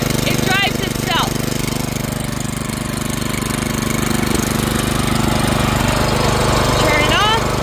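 A Benchmark 212cc gas-powered rotary tiller engine chugging loudly and steadily nearby, a constant rapid mechanical thrum with brief squeaky metallic noises near the start and end, and a voice talking over the engine.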